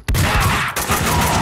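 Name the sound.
gunfire in the video game Max Payne 2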